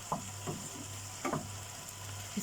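Black pepper and spices are roasted in a pan, giving a steady, soft sizzle close by with a few faint stirring scrapes over it.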